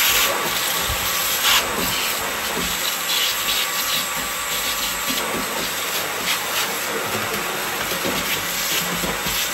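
Burrs being filed off drilled holes in the metal floor of a VW Crafter van conversion, a continuous loud rasping scrape close to the listener, with no talk.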